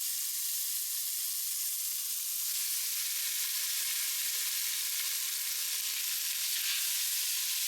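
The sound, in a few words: mixing cooked spaghetti with oil and spices in Tefal Cook4Me pot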